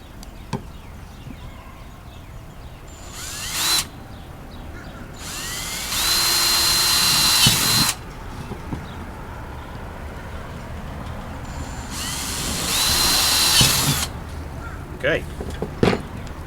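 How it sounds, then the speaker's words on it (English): A power drill bores holes into a metal coupler while building a DIY hop strainer. Three separate loud, whining bursts of a few seconds each come in close, with quiet handling noises between them. "drill the holes into this coupler here"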